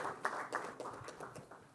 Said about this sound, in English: Let's have a big round of applause and welcome him up on stage